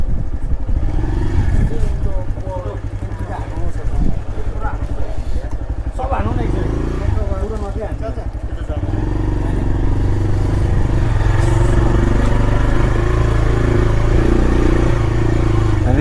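A motorcycle rides through a narrow lane in Marpha village, its engine droning steadily and rising louder toward the end, with someone talking over it.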